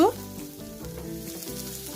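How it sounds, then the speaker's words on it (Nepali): Garlic and ginger fry in a little oil in a pan for chicken pickle, giving a soft, steady sizzle after a brief louder start, with faint tonal background sound beneath. "र यसरी मैले लसुन अदुवालाई भुट्दैछु"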